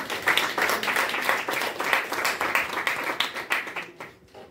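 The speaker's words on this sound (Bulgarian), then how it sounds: "Моля за аплодисменти" An audience at a book presentation in a Sofia bar claps for the poet Lyubomir Levchev; a lively round of many hands with distinct claps audible, tapering off at the end.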